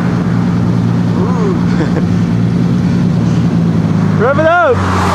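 A car engine at a Monterey car weekend revs up and drops back in a couple of short, rising bursts over steady loud engine and crowd noise, with a voice calling out under the sound.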